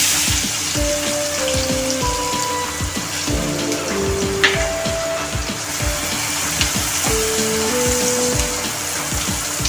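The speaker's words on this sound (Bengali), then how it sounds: "হয়ে গেছে আমার তেলটা, এবার পেঁয়াজটা আমি দিয়ে দেবো।" Onions sizzle in hot oil in a pan while making hariyali chicken, a close crackling fry with clattering utensil knocks and tapping, and no one speaking.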